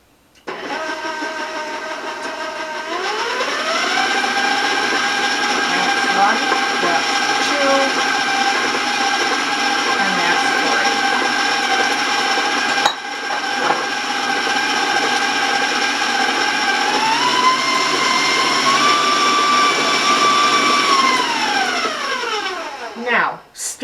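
An electric mixer beats eggs into chocolate brown sugar brownie batter, a loud steady motor whine that holds for long stretches and shifts pitch with speed changes before winding down, as a person counts aloud over it.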